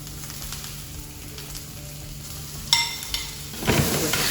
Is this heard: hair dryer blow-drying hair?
no